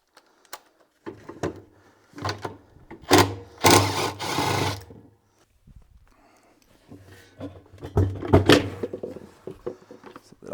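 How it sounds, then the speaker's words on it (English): Agitator bolt being removed from a Whirlpool washing machine with a power driver, giving several short whirring bursts and clunks of varied length, close and fairly loud, with quiet gaps between them. "So we'll take our agitator bolt out and then we'll take our agitator off."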